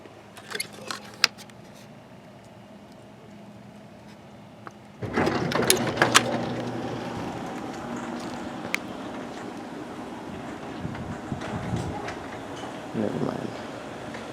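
A 1999 LiftMaster 1000SDR garage door opener raising a door, starting abruptly with a mechanical rumble and rattling that runs steadily for several seconds after quieter background noise, with a few clicks and knocks near the end.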